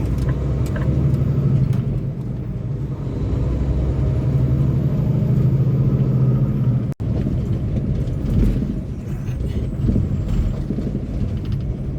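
A dry van semi truck rolls down the road with a steady, loud low engine drone and road rumble throughout, broken by one brief dropout near the middle.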